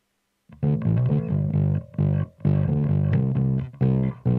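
Bass guitar with clean and distorted signals blended together plays a chunky, rhythmic riff of repeated notes, loud and gritty with short gaps between phrases.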